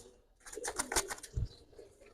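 Giribaz high-flyer pigeons from Rajshahi make a short run of soft, close coos with a low throaty pulse near the end, heard alone without talk.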